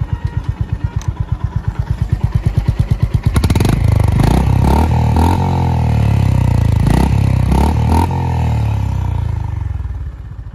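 Honda CB350RS motorcycle being ridden, engine thumping at a steady idle-like pulse before opening up into a loud, sustained revving drone with shifting pitch, close to the listener.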